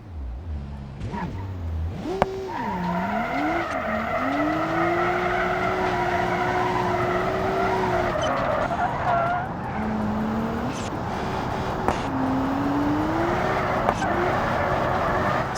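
An ETK 900 Drift Series car in the BeamNG driving game slides through a drift, engine droning with rising and falling pitch over sustained tire squeal, loud and close throughout.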